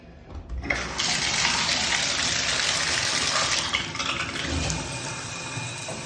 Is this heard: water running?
yes